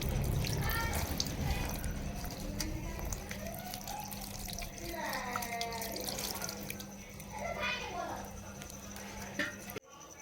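Cold water runs steadily over freshly strained paneer in a kitchen, a continuous rush and splash heard under a person talking throughout.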